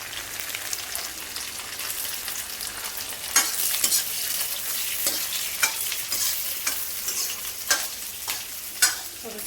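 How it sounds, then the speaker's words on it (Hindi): Onion and garlic fry in a pan in a home kitchen, stirred continuously, producing a dense, spattering sizzle with irregular scraping strokes and sharper crackles near the end. "और इतना फ्राई कर लेती हूँ।"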